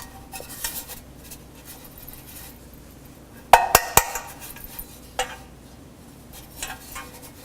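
A greased baking pan dusted with all-purpose flour gets tapped to knock out the excess, giving a few sharp metallic knocks in a quick cluster, then softer isolated taps in a quiet kitchen.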